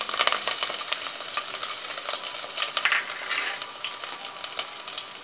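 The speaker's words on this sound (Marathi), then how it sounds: "लसूण आणि कढीपत्ता टाकते." Garlic and curry leaves sizzle in hot oil with a loud, dense, crackling hiss, and close stirring scrapes and clinks come and go without any speech.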